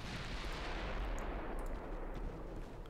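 Battleship 15-inch naval guns fire in the Ultimate Admiral: Dreadnoughts game, a continuous heavy booming rumble with deep low-end weight that holds steady for several seconds, with no voices.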